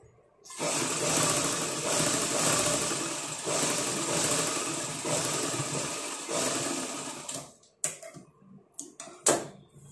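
A sewing machine runs in a steady, fast close-up whir while stitching a blouse seam, then stops, leaving a few sharp clicks and knocks near the end.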